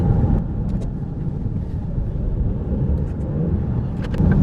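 Car interior on a coastal drive from Portobello to Cramond in Edinburgh: a steady low engine and road rumble with tyre noise, constant and close, with a few faint clicks and no talking.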